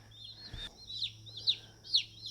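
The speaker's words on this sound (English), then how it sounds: "I ordered 25 Cornish cross chickens" Young Cornish cross chicks peep in a few high, rising chirps, close and clear over a faint low hum, with a brief knock partway through.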